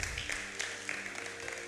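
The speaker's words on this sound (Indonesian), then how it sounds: "Tepuk tangan lebih meriah untuk Tuhan." A church congregation at a Sunday service claps for God. The clapping is faint and sounds distant and uneven, with a few sharper claps standing out.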